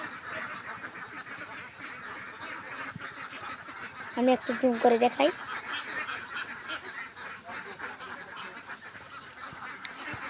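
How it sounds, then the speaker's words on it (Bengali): Farm ducks being herded into their net-fenced shed give a brief cluster of quacks partway through, faint amid background noise, while someone talks. "এই দেখেন হাঁসেরা উঠছে"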